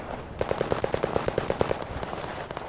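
A machine gun, the MG, fires a rapid burst of about a dozen evenly spaced shots in the video game Fog of War, loud and punchy, followed by a few scattered single shots with no talking.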